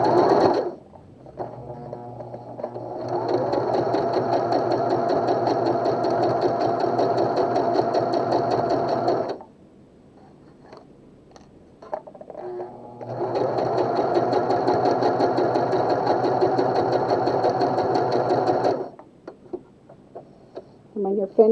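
A Pfaff 140s/160s sewing machine stitches a blind hem in two steady, fast-running bursts of several seconds each with a pause between, while a person talks over and between the stitching.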